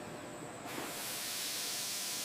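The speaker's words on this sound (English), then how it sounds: "Steam heat shrinks the sleeve, hugging the contours of the bottle for a seamless finish." Steam blasting to heat-shrink a plastic label sleeve onto a bottle on an automated line, a steady loud hiss that swells after a brief quieter start and holds continuously.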